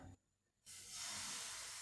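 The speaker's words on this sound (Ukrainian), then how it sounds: "пательня наша розігрілась і починаємо смажити млинці" Pancake batter for cheese pancakes hitting a heated frying pan over medium heat, breaking into a loud, steady broadband sizzle after a short quiet moment, with no talking.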